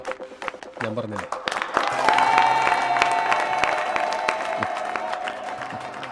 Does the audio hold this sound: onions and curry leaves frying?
no